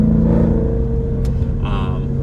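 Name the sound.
Lamborghini Urus exhaust with valves opening at higher RPM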